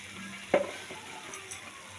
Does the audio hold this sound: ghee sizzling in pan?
yes